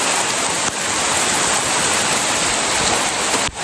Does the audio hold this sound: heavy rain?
yes